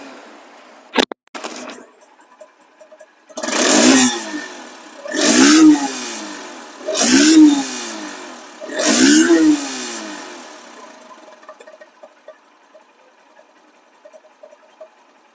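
A second-hand Honda X Blade ABS motorcycle engine runs and is revved four times in a row, each loud, close rev rising and falling, with a few sharp clicks beforehand and near silence after.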